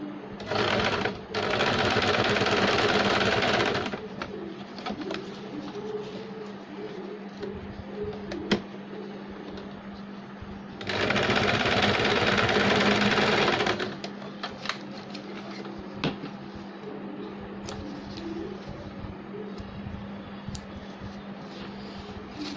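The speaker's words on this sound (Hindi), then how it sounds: "अब हम ये इलास्टिक के दोनों को इस तरह से रख के यहाँ पे सिलाई लगा के इसे फिक्स कर लेंगे।" A sewing machine stitches elastic onto a baby capri in two loud, sustained bursts of rapid needle chatter, separated by quieter handling and fabric noise.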